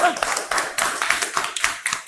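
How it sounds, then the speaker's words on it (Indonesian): A fifth-grade classroom of students claps in a quick, rhythmic pattern of sharp, evenly spaced bursts, fairly close, with some voices mixed in. "Tepuk tangan dulu."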